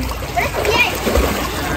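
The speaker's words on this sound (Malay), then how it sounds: "Sekarang kita tengah mandi kolam. Kolam dia kecil kan." Children splashing in a small pool during a family day, with choppy water slaps and splatter close by under excited kids' voices and chatter.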